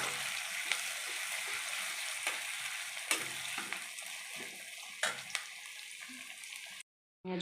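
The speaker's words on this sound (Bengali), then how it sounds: "পেঁয়াজগুলো লাল লাল করে ভেজে নেব।" Chopped onions fry in a pan until reddish, giving a dense, steady close-up sizzle punctuated by sharp stirring clacks, then cutting to a short silence near the end.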